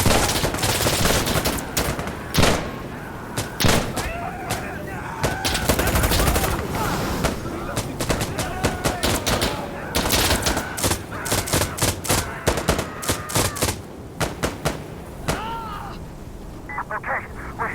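Rapid bursts of automatic and single-shot gunfire fill an Insurgency Sandstorm firefight, some shots close and loud, others sharp and scattered, with voices calling out between the volleys.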